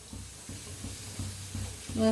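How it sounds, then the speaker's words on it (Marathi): Puris deep-frying in hot oil, a steady bubbling sizzle with soft rhythmic stirring or pressing pulses about every half second, close and moderately quiet, with no talk. "बघा कशा पुऱ्या मस्त असा फुगायला लागले त्या दोन्ही साईडने छान असं तळून घेऊया"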